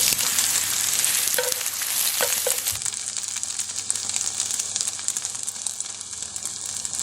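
Spam ham frying until golden in a pan, a dense loud hissing sizzle held close throughout, with a few light knocks of stirring early on and no speech.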